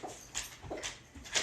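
A puppy indoors lets out a few short, faint whimpers and whines in quick bursts, with no one speaking over them.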